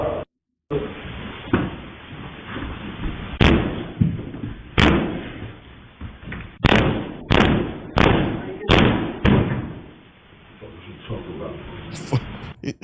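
A man kicks in several doors, a series of loud, heavy thuds and slams spaced irregularly over a steady murmur of background noise, with brief gaps between bursts.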